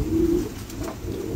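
Pigeons at a seller's loft give a soft, low coo, one short call near the start and faint murmurs after, close and quiet.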